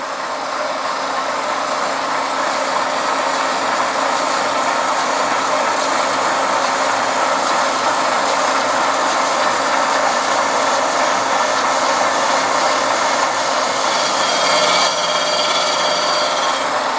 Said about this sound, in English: So you've got to grind into the radius gently.